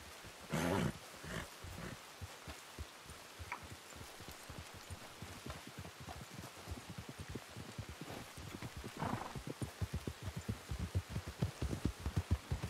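Steady rain pattering in the RedM video game world, a dense continuous patter of drops with occasional louder bursts, close and even throughout with no talk.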